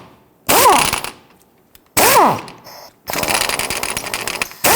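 Ratcheting socket wrench bursts loosening a nut on a 2011-2023 Dodge Charger front suspension, two short close clicking bursts separated by pauses, then a longer continuous rattling run, loud and without talk.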